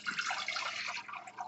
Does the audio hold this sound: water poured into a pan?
yes